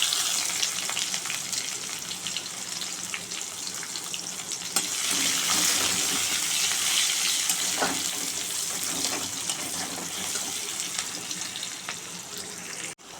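Chopped onion frying in hot oil with whole cumin and bay leaf, a moderate steady sizzle with occasional stirring clicks and a watery hiss, no speech.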